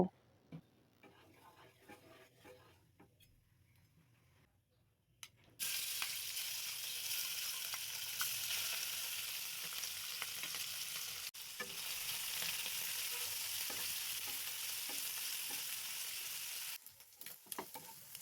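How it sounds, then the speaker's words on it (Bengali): Small shrimp fry in hot oil in a wok. After a few quieter seconds, a loud, steady sizzle starts abruptly and holds close and constant until it cuts out near the end. "কড়াই গরম করে পরিমাণ মতো তেল দিয়ে মাছগুলোকে ভেজে নেব।"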